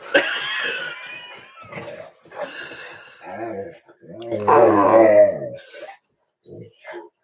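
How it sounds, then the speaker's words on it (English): A pet dog indoors growls and barks at a muted television, with grunting, roaring outbursts rising to a loud, sustained stretch midway and short bursts near the end, while a person talks over it. "There's the dog."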